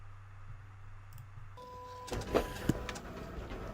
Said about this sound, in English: we're printing our first layer, which is our color layer